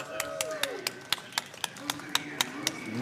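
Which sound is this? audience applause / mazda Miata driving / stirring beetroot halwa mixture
audience applause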